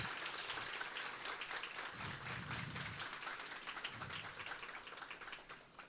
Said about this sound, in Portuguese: Por favor, uma salva de palmas mais forte para essas pesquisadoras.